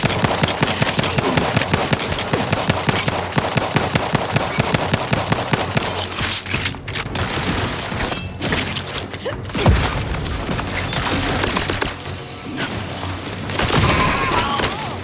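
Rapid gunfire blasts while shooting enemies in The Outer Worlds 2, dense bursts of automatic fire with thuds and booms running almost continuously, loud and close, with a short quieter lull midway.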